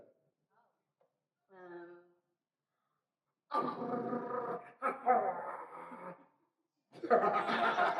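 A person imitates a little dog with short vocal yelps and growly, rasping barks, separated by brief silences, with laugh-like breaths among them, at a convention voice-acting event.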